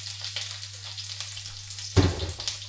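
Onion goes into a hot pot for pig liver and oxtail soup, giving a soft, steady sizzle with a louder burst of crackling frying partway through, close and without talk.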